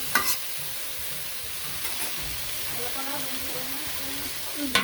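Small potatoes fry in a pan in a rural home kitchen, giving a steady close sizzle and hiss with light stirring scrapes throughout and a few brief clinks.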